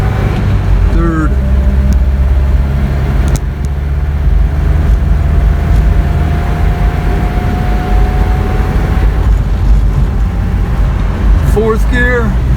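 A 1985 Toyota pickup truck climbs a mountain road in third gear, its engine droning steadily and loudly up close with road and cabin noise throughout, while a voice speaks over it.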